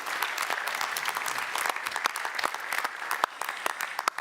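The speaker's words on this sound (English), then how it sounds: "so please a round of applause for Milica Delevic." An audience at a European politics summit applauds a speaker with sustained, even clapping from many hands, moderately loud with a few sharper individual claps popping out.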